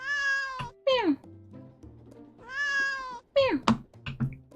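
Cat meowing in a video game, two clear drawn-out meows each followed by sharp knocks and short thuds, close and fairly loud.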